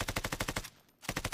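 Automatic gunfire from a Call of Duty Warzone battle royale match, rapid regular bursts of shots that pause briefly before a second burst resumes, loud and close with no talking.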